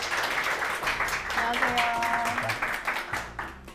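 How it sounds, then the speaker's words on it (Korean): A lecture audience claps to welcome a cafe founder onto the stage, the applause thinning out as a voice greets the room. "큰 박수로 대표님을 모셔볼게요."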